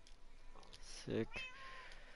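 A single short cat meow in Minecraft sounds clearly near the middle, faint and close, against a quiet background.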